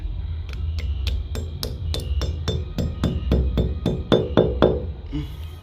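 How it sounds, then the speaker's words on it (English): Sharp metal hammer blows drive anchors into a brick wall, about fifteen evenly spaced, ringing strikes close by, speeding up slightly toward the end. "It's kind of tight, so I'm just gonna hammer them in."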